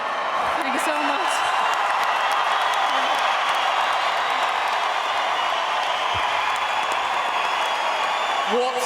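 A boxing crowd roars and applauds a women's two-weight world champion in a sustained, dense wash of clapping and cheering, with scattered voices and whoops rising from the arena throughout.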